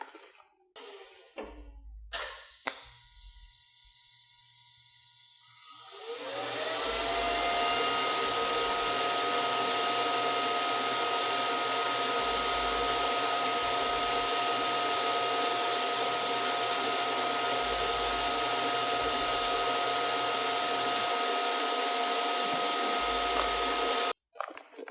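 A TIG welding arc burns on metal, starting after a few short clicks and then holding a steady, loud hiss and hum for about twenty seconds before cutting off abruptly.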